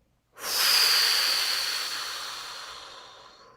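A single forceful exhale blown out through the mouth during a breathing meditation, a close, breathy rush that starts abruptly and slowly fades over about three seconds.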